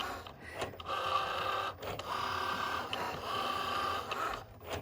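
A Cricut Joy cutting machine runs steadily, giving a continuous whirring, scraping mechanical drone with a few brief pauses and shifts in pitch, close and fairly quiet with no voices.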